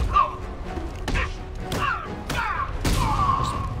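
Punches and heavy thuds of close combat in the video game Batman Arkham Knight, several hard impacts spaced irregularly with whooshing swings and grunting effects, loud and near, with no talking.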